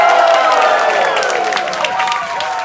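Crowd at a corporate dinner-and-dance party game applauding and cheering loudly, a dense sustained wash of clapping and voices with shouts rising over it throughout.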